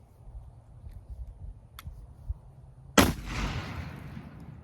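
A single loud blast from a 12-gauge Winchester lever-action shotgun firing black powder shells at pallet boards stuck in mud outdoors, preceded by quiet background noise and followed by a rumbling decay.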